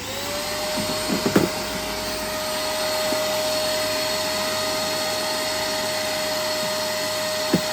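Vacuum cleaner running close and steady while cleaning out a kid's battery-powered ride-on car with its dashboard removed, a continuous whining drone with a few knocks near the start.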